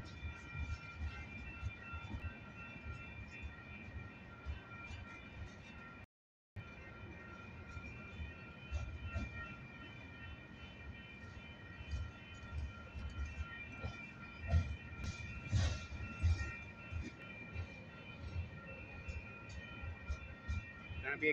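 Long train passing, a continuous rumble with clanking and rail squeal over about twenty seconds, moderately distant, with a brief dropout near the start.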